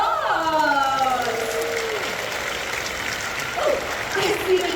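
Applause from an audience at a bird show in Jurong Bird Park fills the stretch with continuous clapping and crowd noise. A presenter's voice carries over it.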